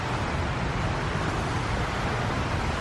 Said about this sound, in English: Oh, look at this water fountain.